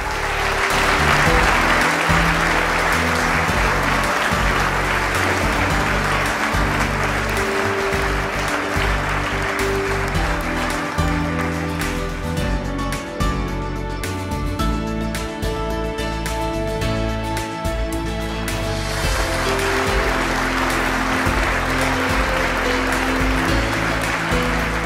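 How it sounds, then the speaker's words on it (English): A large audience at a 2009 writing awards ceremony gives long, loud, continuous applause for an honoree, lasting nearly twenty-five seconds. Faint tonal music runs underneath partway through. "Please applaud Mark Payton."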